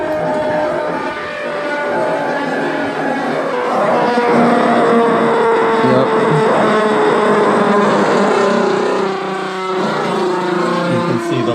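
A bicycle-mounted synthesizer producing a synthesized engine sound, a continuous buzzing engine-like tone with wavering harmonics that revs and slowly winds down, loud and steady, with a brief word spoken over it.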